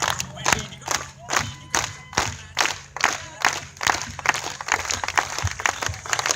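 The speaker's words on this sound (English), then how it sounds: "Please clap along and cheer on your lumberjack." An audience at a lumberjack log rolling show claps in a steady rhythmic beat, with cheering and shouts from the crowd layered over the loud, even pulses.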